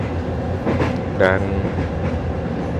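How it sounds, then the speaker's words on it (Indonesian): Onboard the Progo executive-class train just after it pulls out of Jatinegara station, a steady rolling rumble of wheels and carriage runs beneath a person talking. "Kereta Progo baru saja meninggalkan stasiun Jatinegara ya"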